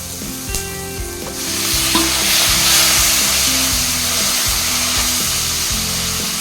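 Tomatoes go into sautéing onions for a tomato kara kuzhambu, the hiss swelling loudly once they hit the pan, then settling into a continuous close sizzle with stirring over faint background music.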